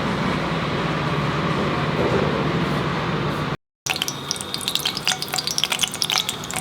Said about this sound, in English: I'll also fry the potatoes on medium flame